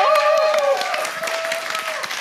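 Audience applause at a live comedy show opening, a steady wash of clapping lasting throughout, with a sustained tonal sound, like music or a held voice, fading in the first second.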